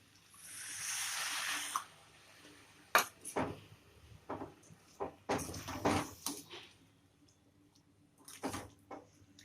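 Water pours into a pan of eggplant and potato curry for about two seconds, followed by scattered clinks and scrapes of utensils against the pan, quiet and close.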